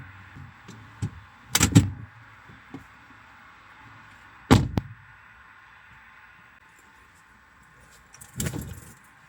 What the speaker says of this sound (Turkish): Şöyle yatağımızı kaldıralım.